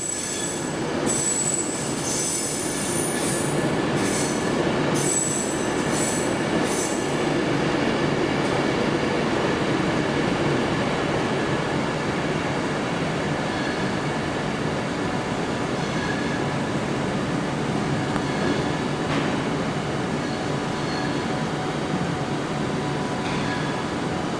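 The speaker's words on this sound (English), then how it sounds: "looks like we got a West Midlands 7:30 arriving." A West Midlands passenger train arrives at a platform in London Euston station, with loud continuous rumble and high wheel squeal and brake screeching that fade as it slows, close by with no talk.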